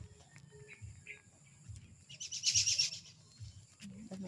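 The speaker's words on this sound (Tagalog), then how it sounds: "Daming ibon sa taas." Birds chirp faintly in an outdoor yard, with a brief burst of higher twittering calls in the middle over a low background rumble; no speech.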